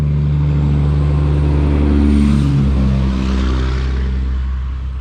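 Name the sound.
traffic noise from cars passing on a busy road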